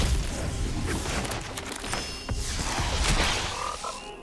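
A deep croaking frog effect from the Psychic Frog card in the MTG Arena card game, booming and rumbling for several seconds with a crashing, layered texture.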